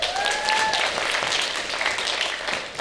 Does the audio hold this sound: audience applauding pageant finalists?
yes